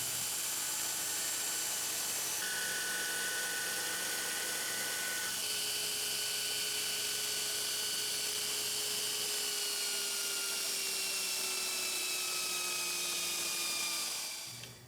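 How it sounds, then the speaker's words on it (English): Grinder cutting down the tang of a Damascus Bowie knife to a 3/16-inch round: a continuous high whine with shifting tones that holds loud for about fourteen seconds before trailing off at the end. "I'll be taking it to the grinder, cutting it down to a 3/16 round for a 1032 thread."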